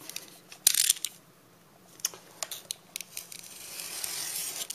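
A snap knife drawn along a ruler to cut a sheet of coroplast gives a sharp scraping scrape near the start, followed by scattered light clicks, ticks and scratching strokes, close and moderately quiet, with no talk.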